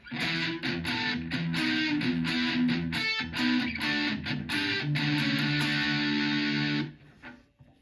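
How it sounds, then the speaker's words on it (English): An electric guitar plays a heavily distorted riff of sustained chords, loud and continuous, then cuts off and rings out near the end. "And with distortion, it'll sound like this."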